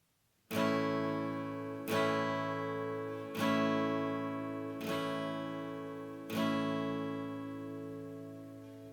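A major chord is strummed five times on guitar at an even pace, each strum ringing out and slowly fading before the next.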